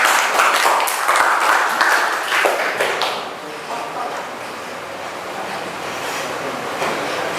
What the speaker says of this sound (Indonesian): beri tepuk tangan untuk temanmu yang sudah benar menjawab